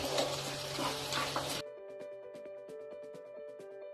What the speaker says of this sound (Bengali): মাংস দিয়ে অনেকটা তেল ছেড়ে দিয়েছে, একটু নাড়াচাড়া করে জল দিয়ে দেব।